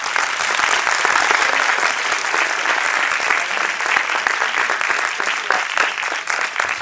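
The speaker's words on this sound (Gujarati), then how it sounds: "એવા મેડમ માટે આપણે તાળી પાડીશું" Loud, sustained applause from a large audience of children and adults at a school annual day, dense, close clapping that holds steady from start to finish.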